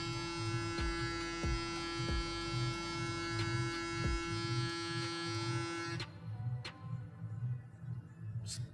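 An electric hair clipper set to 6 mm cuts a man's hair during a barber's French crop, a steady close buzz with rhythmic low thumps as it passes, cutting out near the end to quiet room tone and a few clicks.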